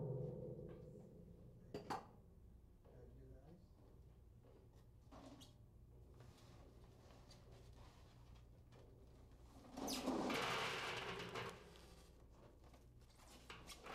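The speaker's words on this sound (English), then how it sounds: "Now we'll cool the barrel by loading ice onto the top." Ice is loaded onto the top of a steel barrel filled with steam, making scattered clinks and knocks and then a brief louder rattling rush of ice sliding on the metal over a faint steady background hum.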